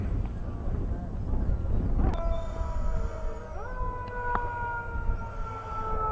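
An ambulance siren on a highway near a hometown baseball game: a wailing tone rising and sliding in pitch, moderately distant over steady outdoor noise.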